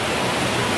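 A waterfall roars close by in a steady, loud rush of water that fills the whole moment with dense, unbroken noise and no voices.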